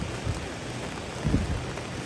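Rain falls steadily at a mountain ski resort near Sochi, a dense even hiss with a couple of low thuds, close and without voices.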